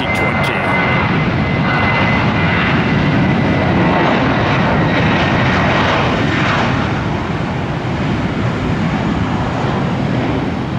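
An American Airlines jet passing during plane spotting at Tampa airport, a loud, continuous broadband engine roar that holds steady for the whole span, with voices talking faintly underneath.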